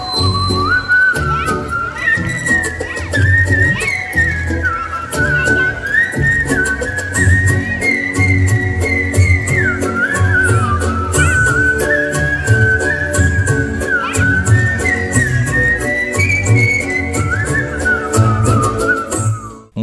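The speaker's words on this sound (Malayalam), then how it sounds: "ചൂളമടിച്ച് പാട്ടുകൾ പാടി ജനങ്ങളുടെ ഹൃദയം കീഴടക്കിയ പ്രതിഭയാണ്" A young whistle singer performs songs by whistling, a clear, loud melodic line gliding and wavering over a steady rhythmic musical accompaniment, close and continuous.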